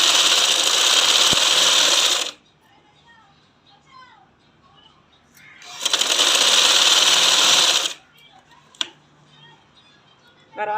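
A sewing machine stitches along folded fabric in two loud, fast, steady whirring runs of about two seconds each, with quiet pauses between where soft voices and small handling clicks are heard.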